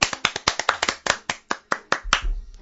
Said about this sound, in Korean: 박수 소리 좀 작네요